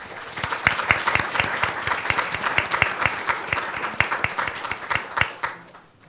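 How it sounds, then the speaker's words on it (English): Audience at a Detroit education event applauds a speaker, a steady burst of crowd clapping with distinct sharp claps, tapering off near the end. "Can we get another round of applause for this amazing speaker?"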